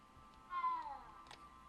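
A cat in the Hogwarts Legacy video game gives a single clear, close meow with a gently falling pitch, standing alone over a quiet game background.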